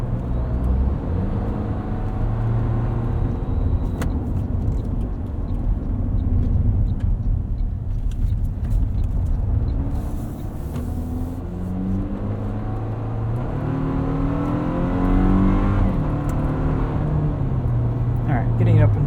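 A 2024 Toyota Tacoma SR XtraCab pickup with an eight-speed automatic accelerating along a canyon road, engine drone rising and dropping through several quick gear shifts, steady cabin noise underneath.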